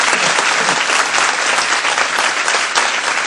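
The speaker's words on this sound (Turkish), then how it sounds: "Lütfen şöyle güçlü bir alkış istiyorum." A live audience gives strong applause, loud and dense clapping that stays full and unbroken from start to finish, close and filling the room.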